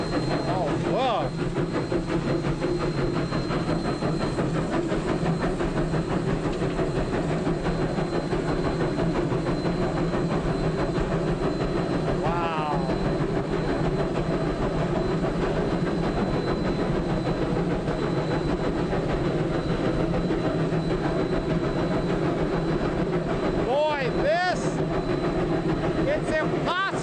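A train engine on a Jamestown rail trip works harder as the throttle is opened, a loud steady rumble and rattle throughout with a couple of whistle-like tones, while people talk over it.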